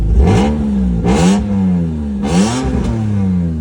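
A 2001 BMW M3 engine revs hard several times through an open exhaust cutout, loud and close, each burst rising in a raspy, throaty roar before settling.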